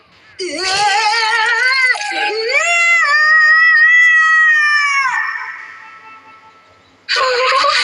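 Animated cartoon cat in a Hindi-dubbed anime lets out several drawn-out, wavering meows and a yowl, loud and near, then breaks off before a last sharp cry.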